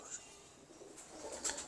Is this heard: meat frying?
no